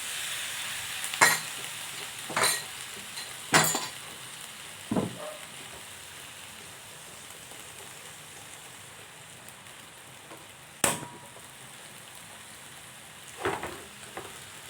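Dayok with pork and green chili sautés in a pan, a soft steady sizzle under occasional sharp clinks and scrapes of a utensil stirring, with no talking.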